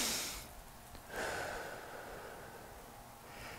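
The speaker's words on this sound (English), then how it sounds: "breathing in through the nose" Slow inhalation through the nose during a calm fitness cool-down, a soft airy breath rising and holding for a couple of seconds, close and gentle, with no talking.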